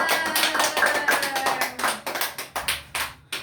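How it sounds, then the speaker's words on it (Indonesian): Classroom clapping by students in a lesson, a dense flurry of hand claps that thins into a few separate, sharp claps toward the end, close and fairly loud. "Oke, tepuk tangan untuk aja."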